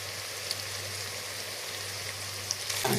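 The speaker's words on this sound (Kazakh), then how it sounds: "Міне пиязымыз сарғайып, иісі шығып, әбден қуырылған кезде үстіне қазір сәбізін саламыз" Carrots tipped into a pan of golden fried onions, giving a steady, close frying sizzle with a few sharp crackles and a brief louder stir of movement near the end.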